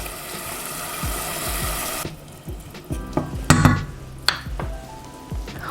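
Diced tomato drops into a hot pan while making vegan Chinese dou ban jiang noodles, a loud sizzling hiss that cuts off sharply, followed by scattered clicks, scrapes and stirring knocks of frying.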